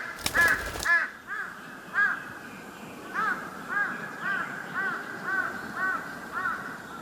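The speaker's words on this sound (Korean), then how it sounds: "먹이를 찾던 큰부리 까마귀가 꾀꼬리 둥지 근처에 나타났습니다." A large-billed crow caws repeatedly in a steady series of about ten loud, harsh calls, preceded by a brief burst of noise at the start.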